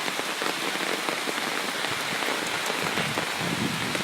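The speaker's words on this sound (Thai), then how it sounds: "ตอนนี้ก็อาจจะมีฝนตกนะครับในช่วงราวๆนี้นะครับ" Steady rain pours down on a backyard garden with large fruit trees in Wang Nuea, Lampang, Thailand, a dense continuous patter of drops on leaves and surfaces, close and even throughout with no voices.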